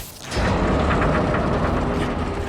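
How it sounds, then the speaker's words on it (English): A rail turntable mechanism grinding and rumbling as it spins in the Spider-Man Miles Morales video game on PS5, a loud continuous mechanical roar with ratcheting texture and no talk. "Spin the turntable, pull trains with webs."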